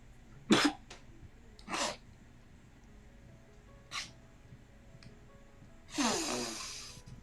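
A person coughs in several separate bursts, two sharp close coughs near the start, one brief cough midway and a longer rough, breathy fit at the end, with quiet room tone between.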